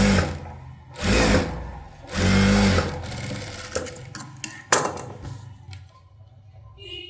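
A sewing machine runs in two sustained bursts, close and loud, edge-stitching the lining edge of a blouse, followed by softer handling noises and a pause.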